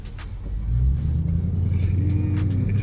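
Dodge Charger R/T engine heard from inside during a drive: a deep, close exhaust rumble swells as the car accelerates, then settles into a steady growl as the revs climb and level off.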